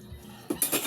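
Dishes and cutlery clink and clatter in a basin as they are washed, a few quick close knocks and chimes over a low background.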